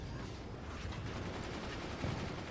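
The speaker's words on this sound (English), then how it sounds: "It's looking like Winkler's mortars are making it through Jorgen's defenses and actually hitting Jorgen's mortars" Mortars fire in a Forts RTS match, heard as a continuous dense rumble of distant booms and thuds with no clear gaps and no talk.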